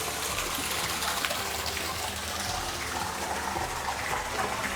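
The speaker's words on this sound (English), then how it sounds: "3 waterfalls out front." Continuous rushing gush of several waterfalls pouring into a river otter enclosure at a zoo in Montgomery, Alabama, steady and fairly loud, with no talking.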